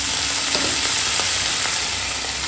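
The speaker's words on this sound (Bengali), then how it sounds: "তো চলো এখন তেল গরম হয়ে গেছে, কাঁচা লঙ্কা চেরা দিয়ে দিলাম" Split green chillies hitting hot oil, loud dense continuous frying crackle close up with faint scattered pops, no voices.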